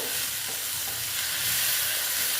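Okra with sesame seeds and turmeric sizzles in a pan as it is stirred, a dense, steady close-up hiss with no voices.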